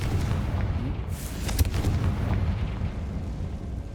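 A Confringo fire spell blasts in Hogwarts Legacy, a sharp booming burst rising out of a steady rumbling bed of game noise, with softer explosive thuds around it.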